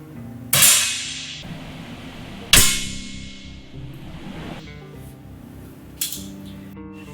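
A Morini pistol at a collegiate pistol range, three sharp report-like cracks spaced a couple of seconds apart, each followed by a brief ringing decay, over a steady low background hum with metallic clinks.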